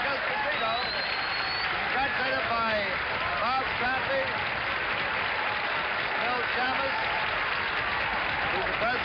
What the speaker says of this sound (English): a tremendous crowd here gives him a huge ovation, which he deserves